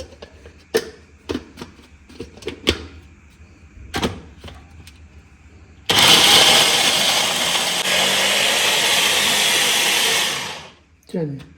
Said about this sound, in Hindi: अब मैं इस चॉपर में डाल रही अदरक, लहसुन और हरी मिर्च।